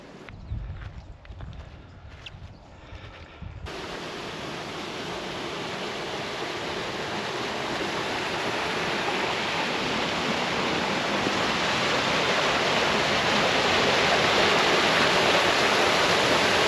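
A burn rushes continuously at a hillside water intake, steady and loud close to the listener, the broadband splash of running water building slightly over time.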